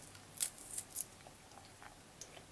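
A knife cuts garlic lengthwise into small cubes, making a few quiet, crisp clicks spaced irregularly against a near-silent background.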